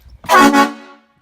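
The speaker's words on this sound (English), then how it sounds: "when it's on, it's the air horn." One loud, brassy Klein train-style air horn blast on a Ram pickup sounds close by, holding briefly before trailing off.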